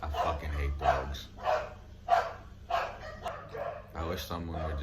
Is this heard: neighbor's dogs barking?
yes